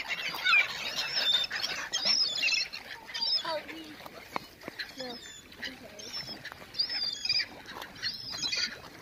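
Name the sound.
seagulls calling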